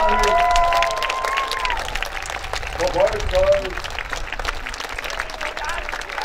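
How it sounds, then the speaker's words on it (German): A crowd at a medieval knight tournament claps and cheers loudly and steadily while an announcer calls out over the applause, which eases slightly toward the end. "Einen besonders lauten Jubel für unsere beiden Bahnsoldaten und Knappen."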